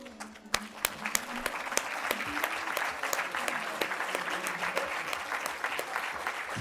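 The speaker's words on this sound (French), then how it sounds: "Offrons-leur un tonnerre d'applaudissements pour leur témoigner notre gratitude la plus profonde." A crowd at a hotel school graduation ceremony in Geneva applauds, dense clapping building steadily and holding with a few sharp, close individual claps standing out, while voices murmur underneath.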